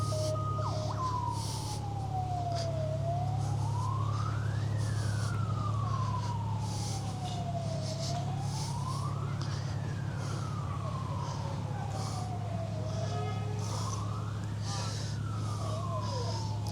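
A fire engine siren at a fire engine rally slowly rises and falls in long repeated sweeps over a steady low engine drone, fairly loud and continuous.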